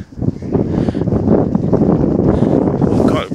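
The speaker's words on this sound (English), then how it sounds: "Got really windy." Strong wind buffeting the microphone outdoors at Crystal Palace, loud rumbling gusts that swell and stay heavy throughout.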